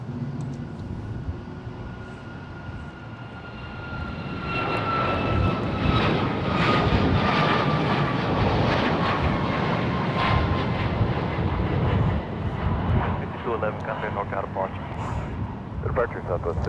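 A Southwest Airlines jet airliner on flight 5211 takes off, its engine roar swelling from a distant whine into a loud, sustained rumble that peaks midway and slowly fades, with a voice talking over it.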